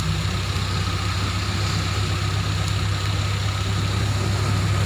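A Toyota Avanza engine idles steadily during an exhaust emission test, a loud, continuous low hum with a constant throb and no talking over it.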